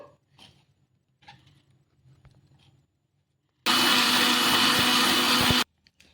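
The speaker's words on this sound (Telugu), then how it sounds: "ఇలా కట్ చేసుకున్న దాన్ని ఒక మిక్సీ జార్లోకి అయితే తీసుకొని మిక్సీ అయితే పట్టేసుకుందాము" Chopped tomatoes ground in a mixer grinder jar, a loud, steady motor whir lasting about two seconds after a quiet stretch of faint handling noises, then cutting off abruptly.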